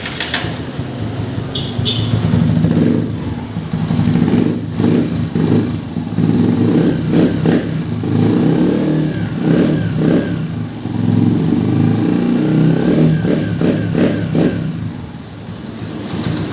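A Honda TMX 125 motorcycle engine runs after a valve clearance adjustment, a close, steady putter with some revving blips and faint birdsong in the background.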